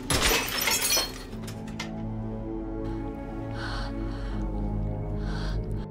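Glass smashed in a tunnel during a horror film scene, a sharp loud shatter at the start, followed by lingering debris and eerie ambience.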